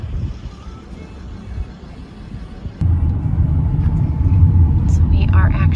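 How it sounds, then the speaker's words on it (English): A car drives through Gozzer Ranch on Lake Coeur d'Alene with a steady low engine and road rumble that grows louder partway through, under someone talking. "So we are actually driving through Gozzer Ranch."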